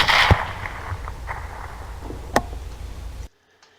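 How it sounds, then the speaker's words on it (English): A rifle finishing shot on an already dead hog in the woods: one sharp, loud crack near the start, a second smaller crack a couple of seconds later, then a sudden cut to silence. "I move into position to do a finishing shot for a hog that is already dead."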